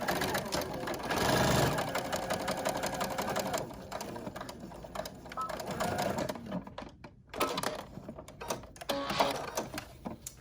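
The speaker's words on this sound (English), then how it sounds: "we're just going to sew right along the edge, and we're joining the lining with the mask" A sewing machine stitches along the edge of a fabric surgical mask, joining the lining to the mask, a steady mechanical whirr that runs near and loud for about ten seconds with brief pauses and shifts in speed.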